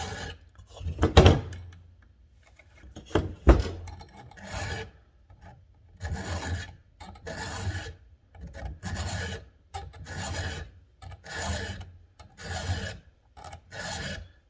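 A file rasps across a chainsaw chain during sharpening, in steady repeated strokes, each a short rough scrape with brief pauses between, close and moderately loud with a couple of sharper knocks early on; no one speaks.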